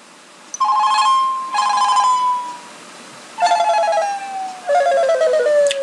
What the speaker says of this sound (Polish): i zadzwonił mój telefon u mnie w kieszeni